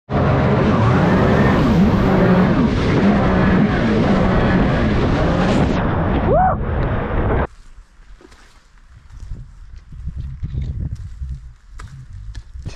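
A 260-horsepower Sea-Doo jet ski with a supercharged 1.5-litre engine roars loudly and steadily up close, revving and then cutting off abruptly, leaving quiet background sounds and faint voices.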